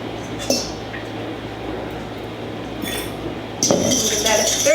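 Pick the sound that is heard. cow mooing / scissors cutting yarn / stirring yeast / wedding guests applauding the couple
stirring yeast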